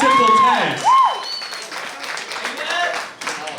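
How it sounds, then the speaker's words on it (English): A crowd applauds the DJ at a dance battle finals night, with loud voices and a sweeping whoop at the start, then a softer, scattered clapping that trails on under chatter. "So one more round of applause for my man"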